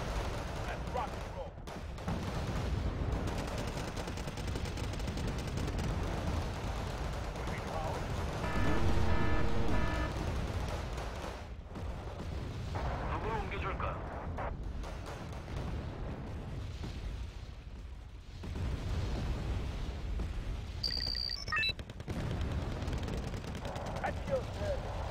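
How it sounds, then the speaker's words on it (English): Cluster bomb bombardment in the Wargame Red Dragon strategy game, with continuous dense rumbling blasts and crackling explosions layered with gunfire, a louder burst midway, under someone talking. "he's bombarding me with cluster bomb."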